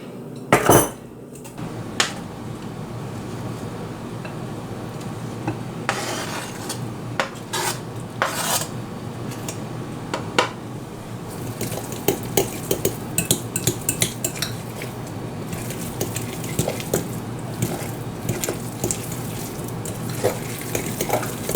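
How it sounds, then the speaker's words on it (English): A utensil stirs bacon into jalapeno popper filling in a bowl, making repeated scraping, clinking strokes against the bowl that are sparse early and grow into a busier, rhythmic mixing, with no speech. "let's mix this bacon in here"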